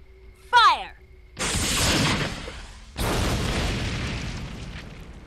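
Guns firing in the video game Brutal Legend, two heavy booming blasts with long rumbling, crackling decays, preceded by a brief sweeping tonal game effect.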